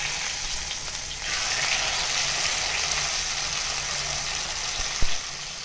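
Fish frying in a pan, a steady broadband sizzle of hot oil that swells slightly after the first second and continues close and even, with a single sharp clink near the end.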